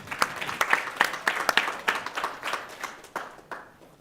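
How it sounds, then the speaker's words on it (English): A modest audience at a finance and banking event claps, with distinct individual hand claps in an uneven rhythm rather than a thick roar, fading gradually. "Round of applause, people."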